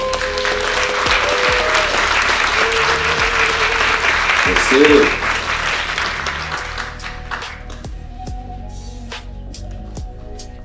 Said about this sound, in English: Make a huge round of applause for Councilman Edward Pollard.